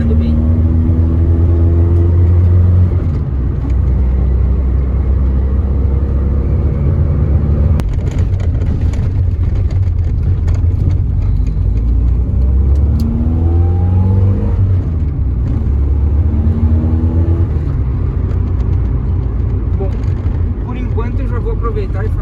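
A Volkswagen Passat 1.6 engine with a Weber 450 carburetor drones loudly and continuously with rising revs as the car speeds up on a highway, road and wind noise underneath, and someone talking over it.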